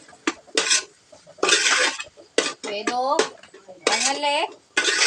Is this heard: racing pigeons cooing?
no